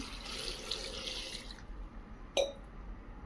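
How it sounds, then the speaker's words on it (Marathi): Water pouring from a tap into a pressure cooker holding pigeon pea pods, a steady rush that stops halfway, followed by a single clink. "कुकरमध्ये शेंगा घालून झाल्या आहेत आता पाणी घालून घेऊ"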